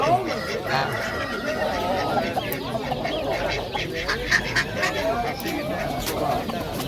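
Ducks quack among other fowl, close and repeated, while people talk nearby in a noisy poultry market.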